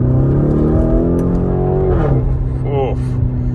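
A Lamborghini Urus in sport mode pulling hard in second gear on a road, its engine note rising steadily under cabin noise before a gearshift dip, with a person talking over it.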